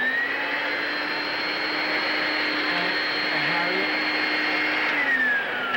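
A vacuum cleaner running over a rug in a 1970s home fills the whole stretch with a loud, steady whine and roar, the pitch easing slightly near the end as the motor shifts.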